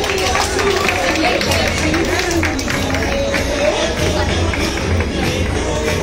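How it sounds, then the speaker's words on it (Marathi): An audience applauds a second-place dance competition winner at a teachers' award ceremony. Thick, continuous clapping mixes with crowd murmur, loud and steady throughout without a break. "नृत्य स्पर्धेमध्ये द्वितीय क्रमांकासाठी एकदा जोरदार टाळ्या घेऊया आपण"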